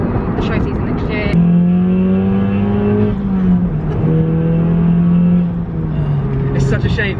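A 300 bhp stanced Audi S1 holds a loud, steady engine drone that rises and then gently sags in pitch, close and continuous, with voices talking over it.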